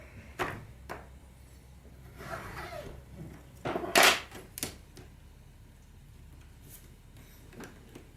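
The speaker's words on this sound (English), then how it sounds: "I'm just going to open this channel up with my Nova tool." A Nova tool prying open the channel of lead came while leading up a stained glass window, giving scattered close clicks and short scrapes, with one sharper burst near the middle.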